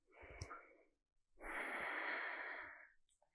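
A person inhales and exhales audibly during a back exercise, a short breath followed by a longer steady breath, close and soft with no talking.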